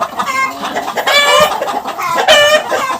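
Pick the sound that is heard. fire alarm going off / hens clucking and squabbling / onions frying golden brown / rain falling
hens clucking and squabbling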